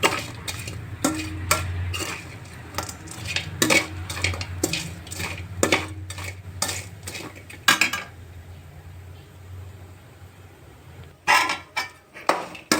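Menthi pappu frying in a pan, with repeated sharp clinks and scrapes of a spatula stirring against metal over a low steady sizzle, nearer and busier at first, then quieter before a final burst of clattering stirs.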